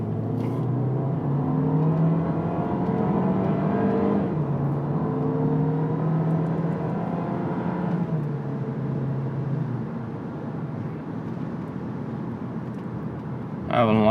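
A 2022 Volkswagen Taos SEL accelerates hard, its engine note climbing steadily and dropping back twice as the transmission shifts through gears, loud and close from inside the cabin.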